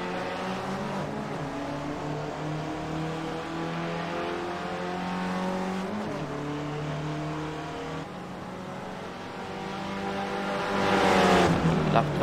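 Race car engines scream continuously in an iRacing Skip Barber-style SRF race at Oulton Island, with cars battling for second, pitch rising and falling through gear shifts and swelling as another car closes in near the end.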